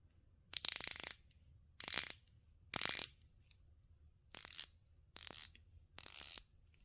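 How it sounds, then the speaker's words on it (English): A freshly greased, rebuilt ratchet wrench clicking in six separate bursts, each a quick close run of fine metallic pawl clicks with quiet pauses between. "This one was freshly greased and rebuilt, so it sounds a little nicer than the 10-year-old gear wrench ratchet"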